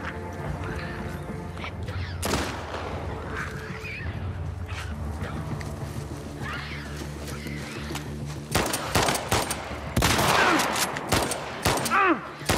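Gunfire in The Last of Us Part II comes through as a few shots early on, then dense close volleys toward the end, over game music and a horse's whinnies and neighs.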